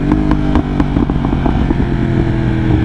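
A 193 hp motorcycle cruising, with a loud, close, low engine burble that rumbles steadily throughout, mixed with wind rush.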